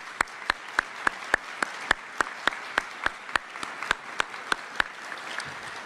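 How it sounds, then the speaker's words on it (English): Clapping at a U.S. Army Medal of Honor Hall of Heroes induction ceremony: sharp, evenly spaced claps come at a steady rhythm over a quiet room hush. "Can you please give them a round of applause for being here?"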